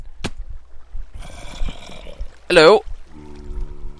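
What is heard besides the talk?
flowing water in the video game Minecraft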